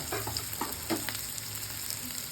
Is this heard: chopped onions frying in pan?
yes